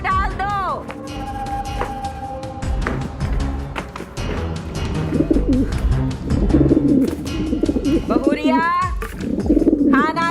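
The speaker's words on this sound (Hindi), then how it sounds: "कबूतर भूख के मारे गुटर गुटर कर रहे हैं" Hungry pigeons coo repeatedly in a household courtyard, with soft burbling calls recurring through the scene while someone speaks nearby.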